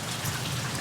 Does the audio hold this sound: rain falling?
yes